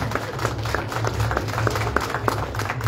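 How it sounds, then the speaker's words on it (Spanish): Audience clapping at a Miss Ambo 2022 beauty pageant candidate presentation, a steady patter of many hands over a low rumble of background noise, with no voices over it. "Fuerte las palmas."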